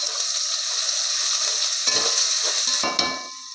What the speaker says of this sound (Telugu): ఇది కొద్దిగా పచ్చివాసన పోయే వరకు వేపేస్తుంది